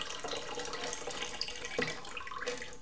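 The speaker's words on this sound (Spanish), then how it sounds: "Ahora estaríamos añadiendo agua nueva." New water being poured into a betta fish breeding tank, a quiet, continuous trickle and splash of running water with no talk over it.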